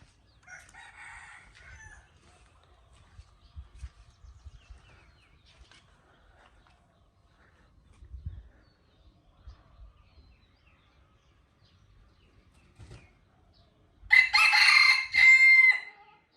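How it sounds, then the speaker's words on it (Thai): A rooster crows near the end, a loud ragged call in two bursts that sounds like a jungle fowl, after a long stretch of faint low rumbling and quiet background noise. "เสียงเหมือนไก่ป่านะถ้าฟัง"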